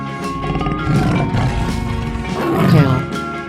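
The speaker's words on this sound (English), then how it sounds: "Tiger." Tiger roaring in a 3D animal slide video game, a loud growling roar over busy game music and cheerful voices, swelling twice across the stretch.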